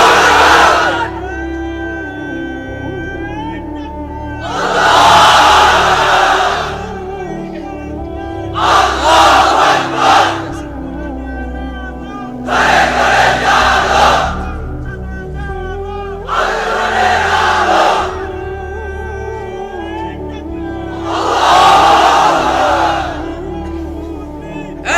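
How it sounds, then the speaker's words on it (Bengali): A large religious gathering shouts the takbir chant in unison, several loud roaring bursts of many voices answering a leader's call, with pauses of murmuring between each swell. "এবার অবিবাহিতরা দাও লিল্লাহি তাকবীর।"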